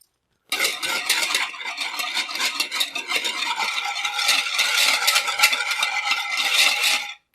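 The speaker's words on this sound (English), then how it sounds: "which I need a whisk." Whisk beating salad dressing in a bowl, a loud, fast, steady metallic rattling and scraping that runs for about seven seconds and stops abruptly.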